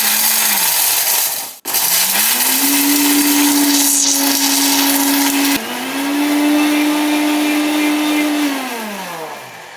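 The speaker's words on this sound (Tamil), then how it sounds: "இந்த மசாலாவை மிக்சியில் போட்டுக்கிறேன்." A mixer grinder whirs loudly, grinding masala with roasted dry chillies for an Andhra-style mango chutney. The steady motor whine runs in two long bursts, separated by a brief stop early on and a short dip midway.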